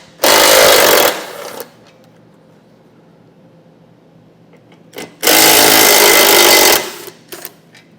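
A power tool spins a 16 mm socket on the bumper beam bolts of a 2023 Audi A5, two loud, close bursts of rattling whir, each around a second long, separated by quiet, with light clanks after each.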